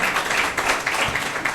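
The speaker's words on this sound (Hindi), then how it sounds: "प्रियंका तिवारी के लिए आप सभी जो है वो तालियां बजाएं" A room full of coaching students claps for a newly appointed teacher, a steady, even patter of many hands that carries on for a moment without talk.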